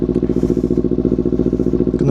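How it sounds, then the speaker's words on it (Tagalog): A very noisy motorcycle engine idles up close, its loud, rapid, even chugging pulses repeating steadily throughout, with a faint clatter near the end. "dito rin tayo nag-start ng motor natin dahil nga masyadong maingay itong motor natin"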